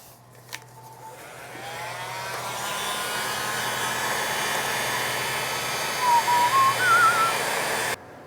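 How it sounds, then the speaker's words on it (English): Heat gun warming a plastic resin stirrer stick, a rising steady airy blower roar that builds after a click, holds with a whining tone, then cuts off abruptly near the end. "Heat gun"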